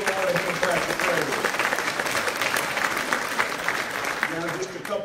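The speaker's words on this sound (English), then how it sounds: "Give the Lord a hand clap of praise." A full church congregation claps in praise during a Sunday service, sustained, dense applause filling the room for several seconds, with voices blended underneath.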